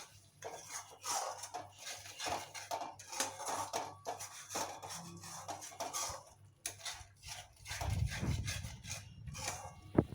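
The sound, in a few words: stirring and frying masala with sugar in a pan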